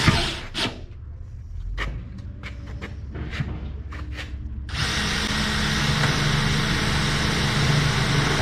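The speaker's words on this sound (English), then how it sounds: "So I'm gonna sink 2 screws into here on each side" A power drill drives screws into a loft beam, several short whirring bursts followed by a long sustained drilling run, close and loud.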